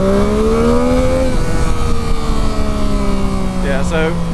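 A 2023/24 Yamaha MT-09 SP accelerates hard from a standstill with traction control on. The engine note climbs loudly, drops at a gear change, then pulls on steadily, with wind rush underneath.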